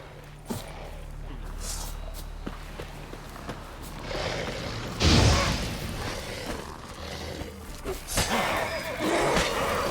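In The Witcher 3, the horse Roach gives a neigh amid game ambience, with a low boom and some movement sounds, close and moderately loud.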